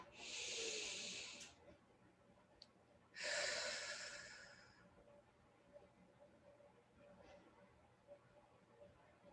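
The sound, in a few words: deep breath in during meditation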